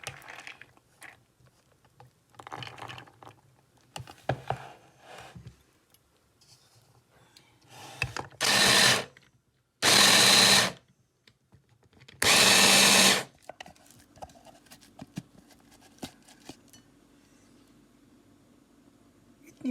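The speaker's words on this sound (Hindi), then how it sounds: "चने की दाल पिस गई है।" Chana dal being ground coarsely and dry, with no water, in a kitchen grinder: three loud bursts of motor whir, the second longest, separated by short pauses, among quieter handling noises.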